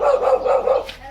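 A dog barks in a quick run of several short, close, fairly loud barks in a store setting in the Philippines.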